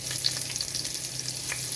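Garlic and onion sautéing in a pan as a base for mung beans, a brief, even sizzle with faint stirring, heard close and alone.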